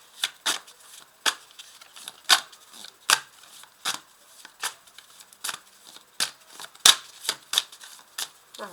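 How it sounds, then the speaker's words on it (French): Tarot cards are handled and drawn in a quick series of crisp, sharp flicks and snaps, close and fairly loud, falling at a brisk irregular rhythm with faint quiet gaps between them and no talking. "Alors, je vais tirer une carte."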